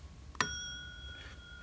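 A simple electric bell wired to a battery and push button gives one sharp, ringing ding that decays slowly over about a second, close and clear against a quiet background.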